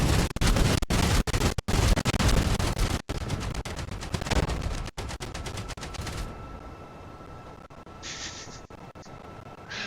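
Turrets in Outpost: Infinity Siege pour out loud, dense bursts of automatic gunfire for several seconds, with brief gaps between volleys, before the shooting thins into quieter scattered shots and lingering mechanical tones.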